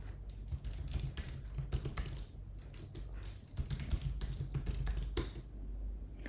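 Keys clatter steadily on a computer keyboard as an initial admin password is typed in, a fairly close run of quick taps and short bursts with brief pauses over a low background hum.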